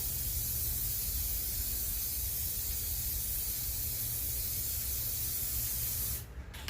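A spray can hisses in one long continuous burst, close and steady, cutting off sharply just before the end.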